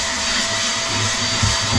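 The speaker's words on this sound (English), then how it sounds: "the luxury of having a Wilco's Hoover on the boat" A Wilko's Hoover vacuum cleaner runs aboard a boat with a loud, constant whining roar, close and unbroken throughout, with no talk.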